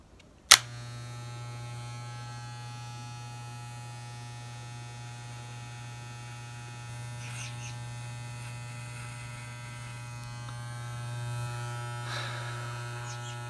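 An electric shaver runs on hair with a steady, close buzz and hum for the whole stretch. It starts with a click, and faint extra rasps come through as the blade moves over the hair.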